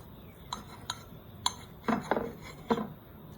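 A knife cuts open a cooked American Wagyu steak. Soft, close clicks and scrapes of metal on a plate come as a few separate taps and then a short cluster, all faint and quiet.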